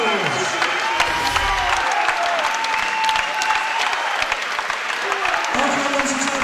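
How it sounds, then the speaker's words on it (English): A fight-night crowd at a K1 kickboxing bout breaks into loud, sustained applause with scattered cheers, filling the hall steadily throughout, while a voice carries faintly over the clapping. "let's have a massive round of applause for Johnny Lawrence"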